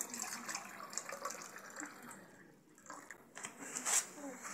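Juice poured into cups by a birthday boy sharing it with his friends at a village party, a faint trickling and splashing stream that fades and resumes, with voices talking nearby.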